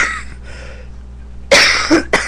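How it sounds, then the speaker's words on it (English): A woman coughs several times at close range, with faint sounds before and then loud, sharp bursts in quick succession. "You're going to have to hear me cough because I can't get around it."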